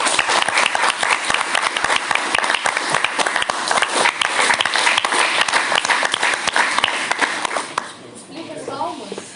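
Dense crowd applause rolls on for most of the stretch, loud and close, then thins near the end as a voice begins speaking.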